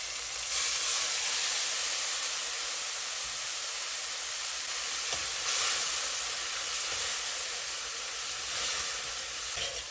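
Garlic and bandhania fry in hot oil with a loud, continuous sizzle and hiss that swells and eases a few times.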